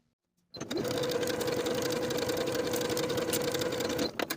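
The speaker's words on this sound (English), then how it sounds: "Sew with a 3/8 inch seam allowance from the top to the notch, backstitching to secure." A sewing machine runs steadily, stitching a 3/8 inch fly facing seam on a denim skirt, one continuous close, loud whir of about three and a half seconds after a brief quiet start, stopping abruptly.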